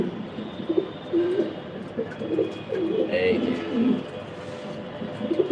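Pigeons cooing at close range, a run of low throaty coos repeating over several seconds while someone talks briefly over them.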